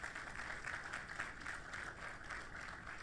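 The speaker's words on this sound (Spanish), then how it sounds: "Dale ese aplauso fuerte al Señor." Faint applause from a church congregation during a sermon, a soft continuous patter of clapping heard at low level, with no one speaking over it.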